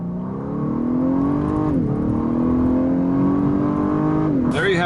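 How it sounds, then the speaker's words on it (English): A 2018 Lexus LS 500 accelerates hard from 0 to 60 mph with the pedal floored, its engine note rising steadily, dipping at a gear change, then climbing again, loud and close from the cabin, ending with a short clunk. "at least you were able to watch me accelerate with the pedal all the way to the metal"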